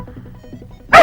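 A dog barks once, loud and close, a sharp burst at the very end, following a stretch of low, soft muffled sounds.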